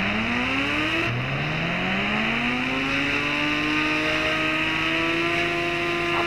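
Ghost Rider motorbike in a video game, set in a large forest, accelerating hard: a loud, continuous engine drone whose pitch jumps and then sweeps steadily upward, with no talk over it.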